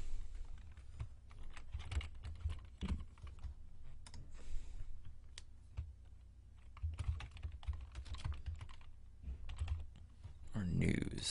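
Fast typing on a computer keyboard with irregular bursts of close, soft key clicks, while a person talks over part of it.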